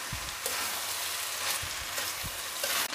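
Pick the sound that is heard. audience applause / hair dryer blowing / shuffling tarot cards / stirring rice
stirring rice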